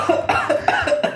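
Someone coughs from the fumes of an extremely spicy pizza: about five quick, harsh coughs in a rapid, close, evenly spaced burst.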